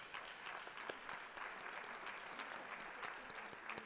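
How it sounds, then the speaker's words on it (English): A concert audience applauds a school superintendent at a Disney-themed spring concert, a steady wash of clapping with individual claps standing out, continuous and fairly distant, with no talk over it. "And let's give her a round of applause."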